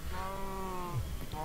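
A Minecraft cow gives a single drawn-out moo, steady then dropping in pitch, fairly faint against a quiet background with no talking.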